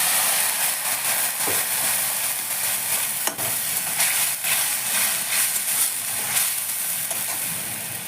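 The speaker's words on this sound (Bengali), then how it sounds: "প্রথমে দিলাম হলুদের গুঁড়ো দিয়ে, এবার আমি একটু জল দিয়ে দিলাম।" A splash of water hits spices and turmeric powder frying in a pan for a pumpkin dish, raising a loud, broad steamy sizzle with occasional stirring scrapes, steady and close with no talking.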